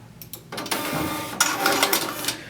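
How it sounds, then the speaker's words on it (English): A KR403 kiosk ticket printer whirs through a print job and cuts the ticket, giving a mechanical buzzing feed with sharper clicks and bursts, close and alone without talk. "It's printing everything completely and cutting it before it presents the ticket."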